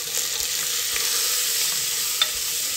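Chimichurri, turmeric, red pepper flakes and salt sizzling in a pot of chicken for hominy soup, a close, steady frying hiss with faint scrapes of stirring and one sharp click.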